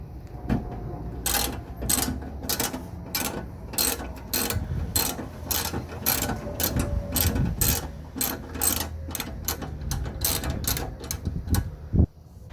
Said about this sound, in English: So we're going to use this along with our spanner and remove all the bolts holding the bumper in place.